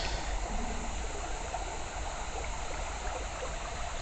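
Water flows and trickles steadily in a city garden with roses and a pergola, a soft, continuous wash heard alone at low level.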